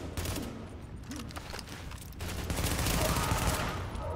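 Gunfire in the video game Tom Clancy's The Division, rapid dense bursts of automatic shots that grow louder and more sustained midway, with a faint voice under the shooting.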